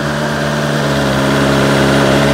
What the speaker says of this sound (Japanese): メカニカルノイズプラス排気音のデカさ、特にエンジンかけたては2000回転ぐらいキープするんで音大きいんですよ。